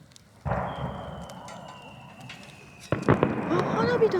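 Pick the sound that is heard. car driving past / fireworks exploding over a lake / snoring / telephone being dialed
fireworks exploding over a lake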